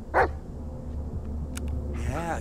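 A single sharp dog bark in the Blair Witch video game, close and loud, followed by a whimpering, whining tone near the end over a steady low ambient hum.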